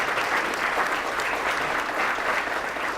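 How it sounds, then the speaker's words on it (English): An audience applauds parents at a keynote talk, a steady, even wash of clapping from many hands heard at a moderate distance. "I just want to give the mothers and the fathers a round of applause"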